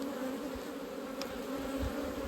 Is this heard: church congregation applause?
no